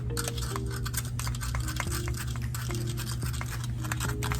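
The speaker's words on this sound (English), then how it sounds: "I'm going to mix that up." A utensil stirs cinnamon and brown sugar together in a bowl for a peach cobbler topping, giving a quiet, continuous scraping and brushing sound with faint clinks against the bowl.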